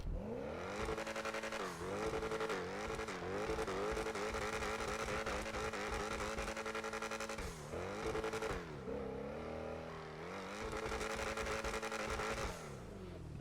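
Ocelot XA-21 supercar in the game GTA Online revving hard, a loud continuous engine roar that climbs and drops in pitch repeatedly, with throttle blips and brief dips between pulls.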